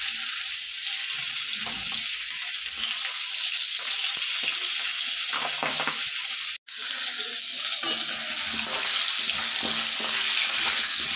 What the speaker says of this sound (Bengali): আলু কাটা ভেজে রেখে দিই।